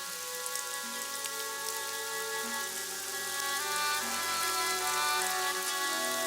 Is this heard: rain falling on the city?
yes